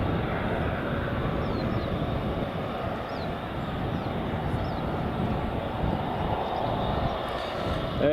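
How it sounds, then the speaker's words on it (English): A Turkish Airlines Airbus A321neo taxis at Edinburgh Airport, its jet engines producing a continuous broad rumble and whine at moderate distance, steady and unaccompanied by speech. "We've got a Turkish A321neo. It's taxiing."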